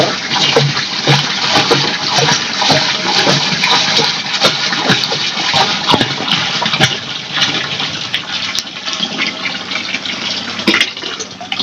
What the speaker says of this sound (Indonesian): langsung aja kita masukkan air kelapa. Ini sebanyak 10 liter pemirsa.